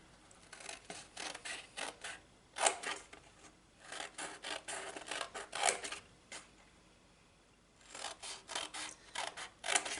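Scissors cut along score lines in card, giving quiet rasping snips in short irregular bursts with pauses between.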